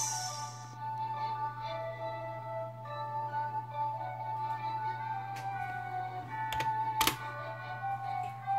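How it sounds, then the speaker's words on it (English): Faint, sparse keyboard taps sound over a steady electrical hum, with a couple of sharper clicks near the end and no talking. "keep on typing wrong"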